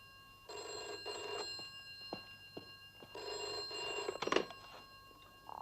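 A telephone rings in two bursts of bright, harmonic bell trills, each lasting about a second, separated by a pause with faint clicks and knocks, followed by a louder rattle near the end.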